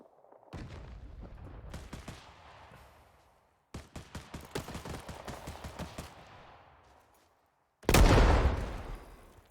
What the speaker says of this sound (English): Oh, those hand grenades.